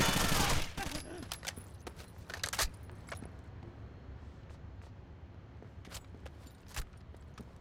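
Gunfire in the 2008 shooter Rainbow Six Vegas 2: a loud opening burst of shots followed by scattered sharp reports and distant crackling over a steady rumble of ambient game noise.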